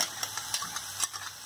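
A kitchen mixer grinder blends curry gravy for a peanut-stuffed brinjal curry. Its motor whirs at a steady pitch, with faint rhythmic pulses as the jar churns, fairly quiet and with no talk.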